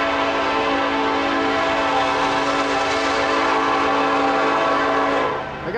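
A westbound Union Pacific manifest freight train rolls through Montour, Iowa, its steady loud rumble and clatter of cars continuing throughout while a sustained horn tone hangs over it, easing off only at the very end.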